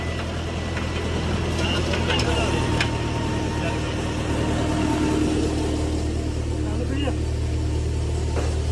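A generator engine running outdoors on a Punjabi farm near a water pump motor, a steady low mechanical drone with constant rumble, loud and unbroken, with people talking over it.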